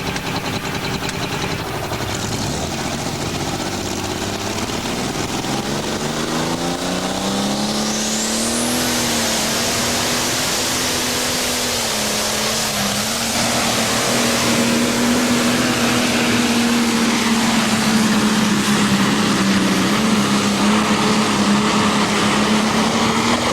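A John Deere 4250 pro stock pulling tractor, the Lethal Weapon, roars through a full pull run at a 1994 USHRA event in Bowling Green, its engine loud and sustained with pitch rising then holding high.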